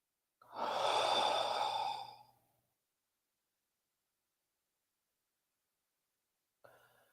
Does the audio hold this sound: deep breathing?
yes